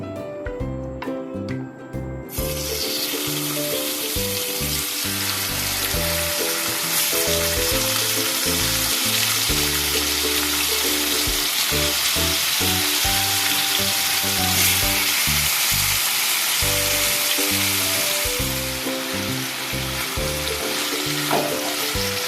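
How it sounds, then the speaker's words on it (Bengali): Marinated chicken dropped into hot ghee and salt in a pan on a gas flame, bursting into loud, steady sizzling frying that continues close up, with some clatter at the start. "এবার আমি ম্যারিনেট করা চিকেনটা দিয়ে দিচ্ছি"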